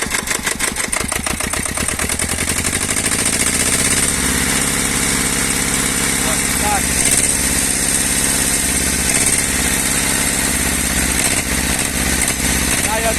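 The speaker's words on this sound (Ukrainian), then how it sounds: "Зараз дамо трохи обороти." A worn-out 2Ch 8.5/11 diesel engine with low compression on a T-25 tractor starts up and revs, its loud, rough mechanical drone rising and then holding steady as a continuous close-up rumble, with a voice occasionally speaking over it.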